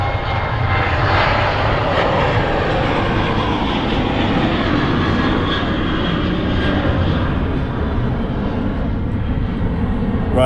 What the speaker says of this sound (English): Ryanair 73 just departing Manchester there.